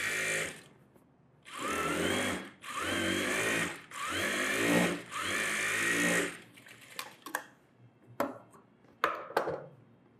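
An electric sewing machine stitches extra seams on a net blouse in four loud, close bursts of rapid whirring, followed by scattered clicks and handling sounds.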